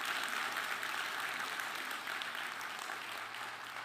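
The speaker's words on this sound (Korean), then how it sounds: "박수 한번 해주시면 좋을 것 같습니다" Congregation applause during a church worship service, a soft, even wash of clapping that continues throughout at a distance, with no voices on top.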